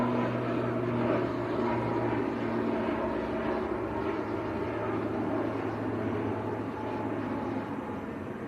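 An Aer Lingus airliner bound for Belfast climbs away after takeoff from Manchester Airport, a steady broadband jet roar with a low tonal hum holding throughout, fairly loud and alone without talk.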